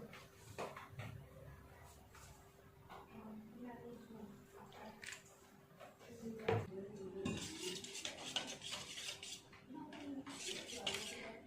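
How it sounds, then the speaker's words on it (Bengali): A spoon mixes chili and turmeric powder into a paste with a little water, making scattered metallic clinks, taps and scrapes against a dish. The sound is quiet and close, with faint background sounds. "অল্প একটু জল দিয়ে পেস্ট বানিয়ে নেব।"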